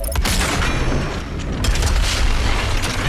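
A double-barrel shotgun fitted with a meat hook fires in a first-person shooter, producing heavy booms with a mechanical clack, followed by a rumbling low-end tail.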